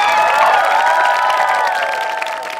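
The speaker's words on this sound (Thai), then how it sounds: "ปรบมือให้โออิชิโกะเก็นไมชา" A studio audience at a Thai talk show claps and cheers loudly and continuously, with excited shouts that fade slightly toward the end.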